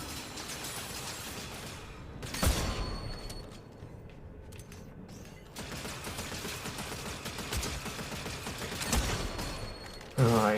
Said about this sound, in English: obviously it is a single shot sniper